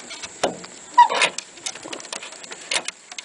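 Young homing pigeons in a loft, soft scattered coos and rustling flutters with light pattering, close and fairly quiet, no talking.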